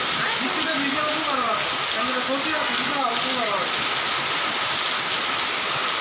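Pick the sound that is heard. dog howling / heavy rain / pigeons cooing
heavy rain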